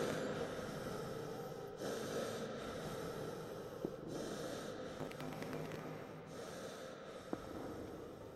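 Heavy, wet breathing and snorting from a creature in the horror game Astray, coming in slow repeated pulses over a low, murky background, faint and alone.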